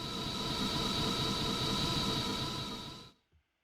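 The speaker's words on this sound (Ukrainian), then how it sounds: "Потяг. Він же їде." A Kyiv metro train on the red line rumbles steadily through Darnytsia station with a whining tone, loud and close, before the sound cuts off abruptly at the end.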